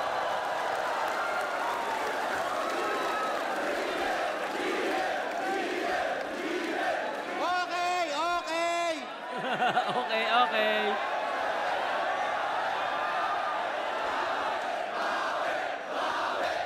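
Crowd at a FlipTop rap battle in the Philippines erupts in loud cheering and shouting over a rapper's amplified voice. A short burst of reaction stands out midway, and a voice speaks briefly over the noise.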